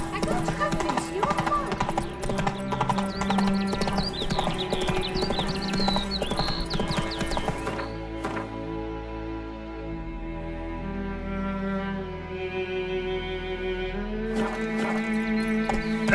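The horse Roach trotting in The Witcher 3, a steady clip-clop of hooves under a game music score with voices talking over it.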